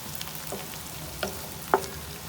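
Bitter gourd frying in a pan, giving a soft low sizzle with a few brief louder crackles and stirring scrapes near the end.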